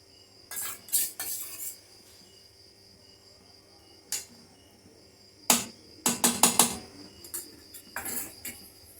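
A spoon clinks and scrapes against a pan while stirring homemade tomato sauce, coming in short clusters of metallic taps with quiet pauses between, close and fairly soft.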